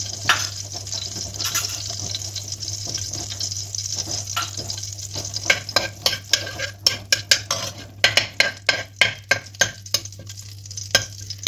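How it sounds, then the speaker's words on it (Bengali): A dry red chili fries in melted ghee in a pan, giving a steady low sizzle broken by quick clattering scrapes of a spatula that grow busier toward the end, with no voices. "ঘিটা আমার গলে গেছে। এতে একটা শুকনো লঙ্কা দিয়ে দেব। এবার এটাকে ভালোভাবে ভেজে নেব।"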